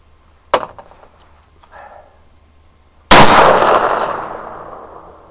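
A 300 Blackout rifle fires outdoors in cold, windy snow: a sharp crack, then a much louder report about two and a half seconds later, its long ringing tail fading slowly.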